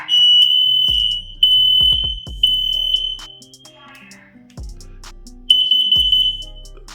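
A home smoke and carbon monoxide detector set off with its test button gives a loud, piercing electronic shriek in repeated bursts, interrupted by several low thumps and handling knocks nearby.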